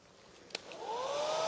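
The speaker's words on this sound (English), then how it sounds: "I'm going to probably just hit this with a hairdryer a second" A hair dryer switches on and spins up, its rising whine and rushing airflow growing steadily louder after a brief click.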